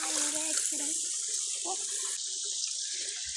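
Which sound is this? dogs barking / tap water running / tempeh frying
tap water running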